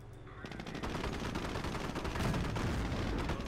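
Machine gun nests fire in Company of Heroes during the Normandy invasion at Montebourg. A steady, dense stream of automatic gunfire carries on throughout, thick with overlapping shots and battle noise, at moderate loudness.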